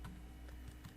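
Keys tapped on a computer keyboard while a Linux terminal command is typed, a brief cluster of three or four soft clicks heard very faintly and alone.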